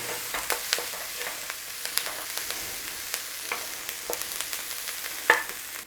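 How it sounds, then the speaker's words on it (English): Onions with thyme sizzle and crackle in a pan, a soft continuous hiss dotted with small pops and a few stirring scrapes, close by. "So when you've got a little bit of sizzle whizzle and a little touch of colour"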